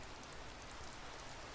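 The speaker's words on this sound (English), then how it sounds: "I think it's appropriate that it's raining for this." Steady rain falling in the Minecraft modpack Sky Factory 3, a soft, even hiss of drops throughout, faint and constant with no talk.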